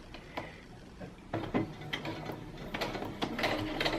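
A home sewing machine stitches a bra at a stitch length of 3, giving a few short mechanical runs and clicks that get busier toward the end, close and fairly quiet.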